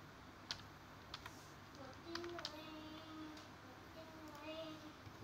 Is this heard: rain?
no